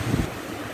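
Water rushing over slippery, algae-covered rapids in a moorland brook below a waterfall, a steady broadband roar of turbulent flow with wind buffeting the microphone, loudest in the first moments.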